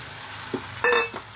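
Marinated chicken hits a hot pan for chicken Mughlai curry, giving a brief sharp sizzle with a soft clink of utensils just before it.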